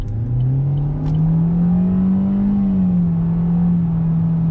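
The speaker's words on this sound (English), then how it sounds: "you can hear the engine kind of screaming. You definitely hear the noise of the motor when you're on the throttle" The small engine of a 2019 Chevrolet Spark LT drones loudly from inside the car under throttle, its pitch rising steadily into a strained whine, then easing off slightly near the end.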